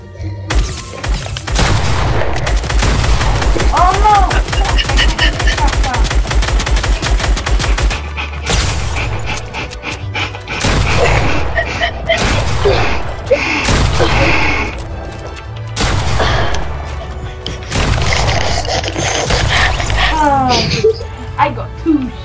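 Repeated shotgun blasts and heavy gunfire in Fortnite ring out in loud bursts separated by short pauses, with people talking over the shooting.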